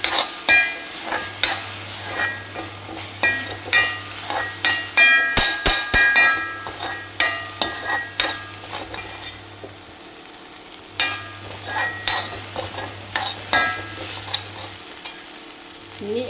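Fried rice being stirred with tomato sauce in a frying pan, a steady scraping and sizzling with repeated spatula strokes and clinks against the pan, fairly close, with no talking.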